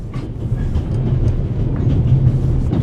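A train rolling along rails in The Raven Remastered, a steady low rumble with faint rhythmic clatter and hum, continuous and fairly loud, with no talking.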